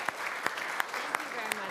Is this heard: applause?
yes